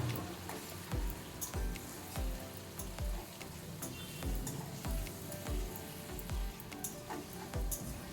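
Ginger and chilli paste frying in a pan for a soybean dish, a steady close sizzle broken by regular scraping stirs roughly every second, with no talking.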